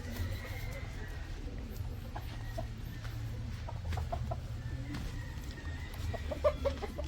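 Hens cluck intermittently on a farm, with scattered short calls over a steady low background hum and some movement, the birds moderately close.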